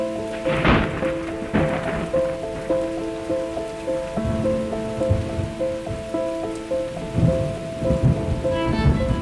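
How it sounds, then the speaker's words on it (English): Rain falling on the dusty soil of the Serengeti, with rumbling thunder and a steady wash of rainfall. Tonal hum-like lines run underneath, and no voices are heard. "as the first rains fall on the dusty soil of the Serengeti"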